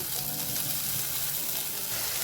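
Moth beans and onion sauté in hot oil in a pan, giving a continuous, dense sizzle throughout, steady and close with no pauses.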